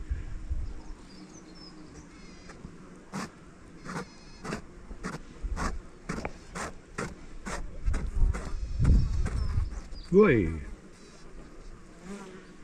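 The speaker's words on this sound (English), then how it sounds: "Guard bees. And with the weather being like it is, there's a lot of them." Swarm of guard honeybees buzzing around an apiary in warm weather, a steady close insect drone with individual bees zipping past the listener, while a person briefly exclaims over it.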